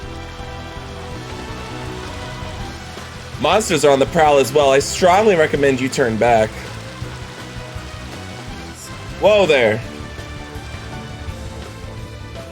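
Steady rain hiss fills the Matar Highlands in Baten Kaitos Origins, a constant soft wash that runs throughout while a voice speaks over it in two bursts.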